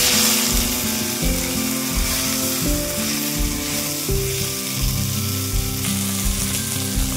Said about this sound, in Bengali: তেল দিয়ে নিব। দেখো এই পাতাগুলো দিয়ে দিলাম।